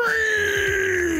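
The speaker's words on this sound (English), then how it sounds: "Scream!" A scream sound effect plays as one sustained, loud wailing cry that slides slightly downward in pitch, heard alone for about a second.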